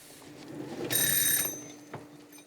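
A kitchen timer alarm rings with a bright, steady electronic beeping for about half a second, fairly loud against quiet background room noise, then cuts off.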